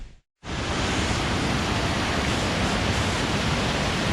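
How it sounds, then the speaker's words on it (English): Cascada de los Caballeros in Suaita, Santander, Colombia, heard from the top of the falls: a dense, steady roar of falling water that cuts in after a brief silence and stays loud throughout. "here we are at the top of the waterfall"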